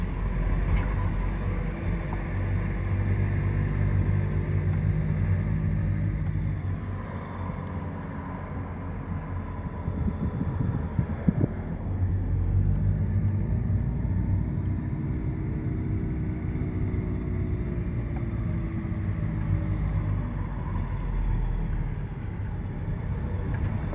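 A car being driven, heard from inside as a continuous low road and engine rumble that holds steady for the whole stretch, with no voices.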